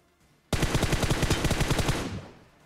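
Automatic gunfire in the video game PUBG on the Livik map: one loud, close burst of rapid, evenly spaced shots lasting about a second and a half, then a fading tail, with no talking.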